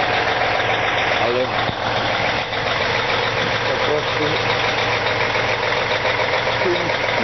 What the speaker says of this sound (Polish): Teraz rano włączyłem silnik